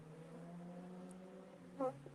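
Honey bees buzz around a hive frame, a faint steady drone close by with one brief louder buzz as a bee passes near.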